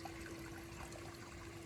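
Water trickling steadily over stones in a garden pond waterfall, a continuous soft, even splashing with no voices.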